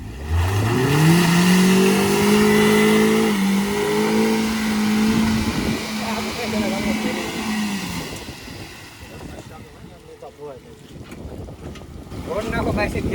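A car stuck in a pothole revs its engine, climbing to a strained, steady whine for several seconds before dropping away, with wind buffeting the microphone and people talking nearby.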